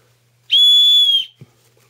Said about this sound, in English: thing is a whistle